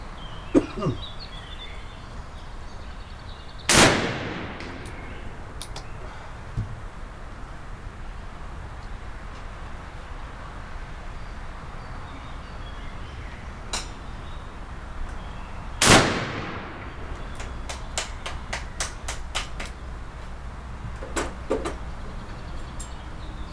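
Two loud, sharp shots from a Remington Navy .36 black powder revolver, firing round balls, ring out several seconds apart outdoors, followed by quieter snaps and clicks, with faint ambient noise throughout.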